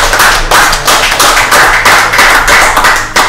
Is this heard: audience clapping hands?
yes